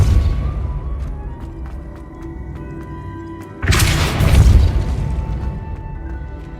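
A Depulso spell cast in Hogwarts Legacy, a loud sudden whooshing boom that bursts in midway, cutting through a quieter stretch of game ambience with light clicks, then lingering as a rumbling roar before fading.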